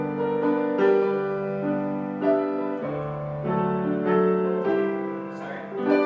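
A 1995 Young Chang G-213 seven-foot semi-concert grand piano with replaced hammers, action and strings, playing a slow sequence of rich, ringing chords and single notes that swell and overlap, close and clear with no talk.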